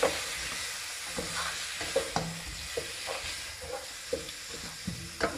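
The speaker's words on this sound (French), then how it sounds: "on met notre soja dans notre poêle bien chaude, on remue" Soy sauce sizzles and crackles in a hot pan, a steady fry with occasional clinks of stirring, fairly quiet and close.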